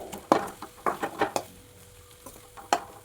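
A lid comes off a pot of Kerala-style chicken roast, and a spoon stirs the thick mixture. Several close scraping and clattering strokes are heard, with a faint sizzle between them.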